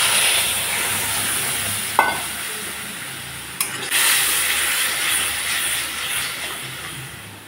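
Water and spices going into a hot cooking pan set off a loud, steady sizzle up close, broken by a couple of sharp utensil clinks, with no talking.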